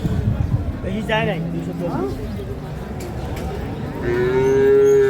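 A cow moos loudly and long near the end, amid the murmur and talk of a busy dairy cattle market in Ambari, Dinajpur, where milk cows and calves are traded.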